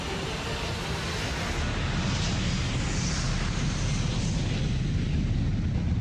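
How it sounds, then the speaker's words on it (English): An airliner, Malaysia Airlines Flight 370, takes off from the runway on a dark night, a loud, steady broadband jet roar that holds throughout with no voices. "Malaysia Airlines Flight 370 leaves the runway."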